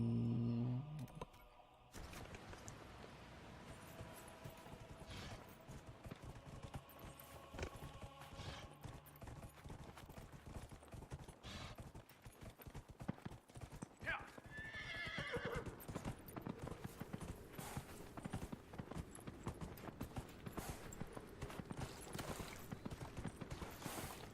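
A horse in the video game Dragon Age: Inquisition gallops with rapid, continuous hoof clip-clops, a neigh near the start, under a steady outdoor ambience.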